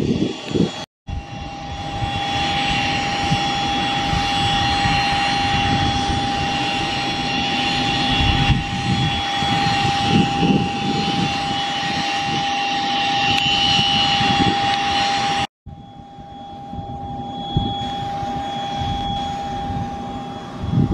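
A Hawker 900 business jet lands at an airport, its engine roar loud and steady throughout with a high whine held over it, briefly cut out twice, then a quieter rumble as the aircraft rolls out.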